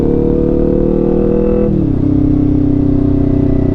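A motorcycle engine fitted with TST V2 stacks and a 2WDW tune hums steadily, then its pitch drops as it shifts and settles into a smooth, even drone, close and loud throughout with no voices.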